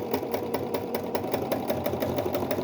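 A sewing machine stitching fabric for a child's vest, running steadily at close range with an even, rapid mechanical chatter and no voices over it.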